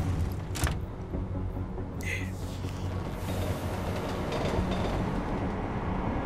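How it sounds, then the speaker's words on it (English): A train arrives in Deus Ex: Mankind Divided, a steady low rumble of rail cars rolling in under game ambience, with a few short hisses and clanks over a continuous wash. "That's cool, I can summon a train."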